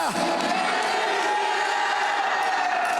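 Church congregation shouting and cheering together, a dense sustained roar of many voices with whoops, loud and continuous throughout.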